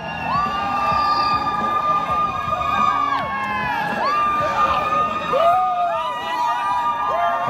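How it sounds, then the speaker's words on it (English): A lively marathon crowd cheers and whoops, with high shouts and whistles rising over a dense, continuous roar of voices. "Let's give them a big round of applause,"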